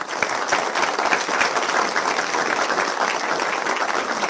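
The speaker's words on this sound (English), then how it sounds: "Please join me in a round of applause" Steady applause from the audience at a board of education meeting, dense even clapping filling the room throughout with no voices over it.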